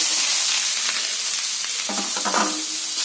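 Curry leaves crackle and sizzle in hot oil in a pan for idichakka thoran, with steady frying noise, several sharper pops near the end and light stirring, no voices.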